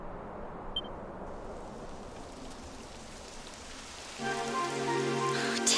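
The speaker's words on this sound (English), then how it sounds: "It would have to go and start raining, wouldn't it?" Steady rain hisses across a surface in the game Dragon Quest XI, a broad wash with a faint beep early on, and a low hum and tonal music swell in near the end.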